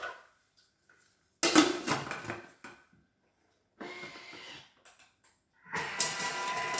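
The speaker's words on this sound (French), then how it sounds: "je rajoute un bouquet de persil que je mets tout simplement dans mon bol, que je vais mixer à vitesse 5 pour faire du persil haché" Food processor chopping a bunch of parsley at speed 5 for tabbouleh, running in three short bursts of loud whirring and rattling, each lasting about a second or two, separated by silent gaps.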